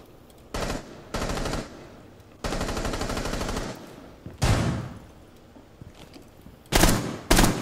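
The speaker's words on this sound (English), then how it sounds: "Oh, they're shooting through." Bursts of automatic gunfire fired through a wall in Rainbow Six Siege, several sustained loud volleys separated by short pauses, with a few sharp single blasts between them.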